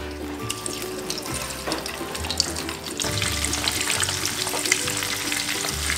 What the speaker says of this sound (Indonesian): Ayamnya kita goreng sampai dia kecoklatan.